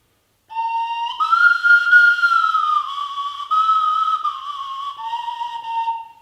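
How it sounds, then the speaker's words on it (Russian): A homemade whistle instrument is blown in one long, steady note that rises to a higher pitch, holds, then drops back down, played close, clear and alone. "А этот инструмент я не знаю, как назвать. Свистулька"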